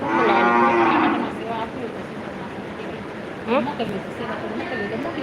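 A loud, close bullock moo opens the scene at a shelter for sick bullocks, followed by a fainter lowing call midway, with people talking in the background and outdoor rumble.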